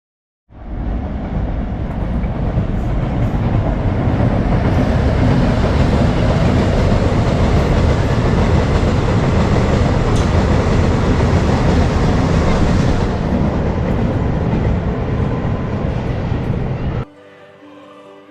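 A train crosses a railway bridge with a loud, steady, broad rumble and clatter. The sound lasts about sixteen seconds, then drops off abruptly.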